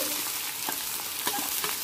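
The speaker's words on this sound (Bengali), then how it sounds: "আমি 3 টেবিল চামচ সর্ষের তেল দিয়ে দিয়েছি। গ্যাসের ফ্লেমটাকে বাড়ানোই আছে। দিয়ে দেব পেঁয়াজ কুচি।" Chopped onions frying in hot mustard oil over a high gas flame, a steady close hiss and sizzle with soft scraping stirs, and no talking.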